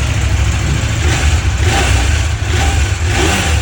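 A CFMOTO 800MT-X motorcycle engine running loud and close, rumbling steadily with slight rises in revs throughout.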